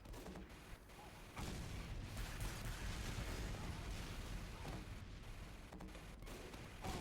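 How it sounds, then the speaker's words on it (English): Rocket blasts from the Beggar's Bazooka in Team Fortress 2, a dense run of booming explosions that starts after a brief lull and rumbles on continuously, loud and close with no talk. "he does a ton of damage with a 3 rocket strike and then neatly finishes him off with a direct rocket follow-up"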